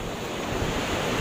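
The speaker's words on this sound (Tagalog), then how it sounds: "Grabe ang alon pala dito." Strong ocean surf roars steadily along the shore at Amper Boulevard in Aurora province, a close, continuous wash of breaking waves with wind buffeting the microphone and no voices.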